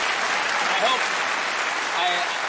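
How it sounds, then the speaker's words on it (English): Steady talk show studio audience applause, a dense wash of clapping from a crowd that holds at an even level throughout. "I hope that applause is for my mom."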